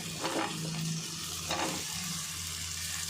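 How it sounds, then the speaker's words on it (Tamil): Potato pieces fry in oil in a pan for mint biryani, with a continuous close sizzle and a couple of brief bursts of stirring or shuffling in the pan. "இதை எண்ணெயிலே இதையும் கொஞ்சம் நேரம் வதக்கிடலாம்."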